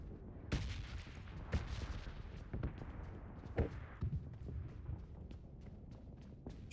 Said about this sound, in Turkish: Şu an patlamalar yaşanıyor arkadaşlar.